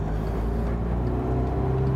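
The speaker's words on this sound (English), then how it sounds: "I'll try and increase the throttle a little bit." A 2.0 TDI common-rail diesel engine in a tuned VW Caddy van with DSG and 4Motion, heard from inside as a steady low drone with a tonal hum that rises slightly as the throttle opens, constant and close.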